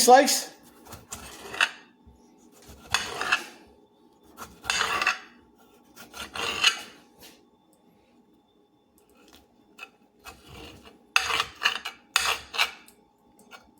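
A blunt knife hacks through a tomato on a board in uneven bursts of chopping and scraping, with quiet pauses between strokes, close up and without talk.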